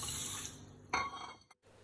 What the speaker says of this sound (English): and in it we will be adding 2 cups of water.